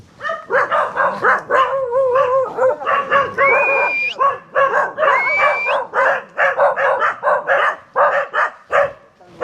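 A dog barks repeatedly in quick, loud bursts, with a couple of high whining yelps mixed in, close by and nearly continuous.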